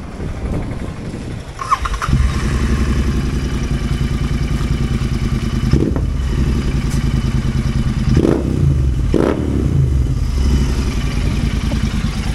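A Royal Enfield Continental GT650 cafe racer motorcycle runs loud and close, its engine holding a steady, throbbing idle with a few brief blips and some mechanical clatter.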